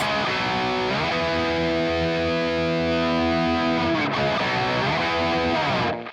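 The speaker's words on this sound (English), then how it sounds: "Let's have a look at what the power amp does in this kind of high gain setting." A heavily distorted electric guitar through a high-gain amp plugin with power amp distortion plays sustained, thick chords with dense harmonics, loud and continuous, ending with a quick cutoff.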